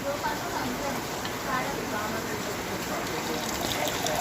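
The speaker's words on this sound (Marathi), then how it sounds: "आता याला आपण गिलासामध्ये काढून घेऊया। बघा मी गिलासामध्ये टाकते" Ayurvedic kadha decoction poured into a glass, a continuous gushing liquid stream heard up close and fairly loud for the whole stretch.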